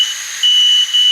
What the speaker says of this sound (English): and now it resumed to beeping